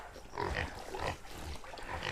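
Native pigs at a campsite, eating, with low grunts and snuffling chewing noises that run steadily through a short stretch, close by, against an outdoor background.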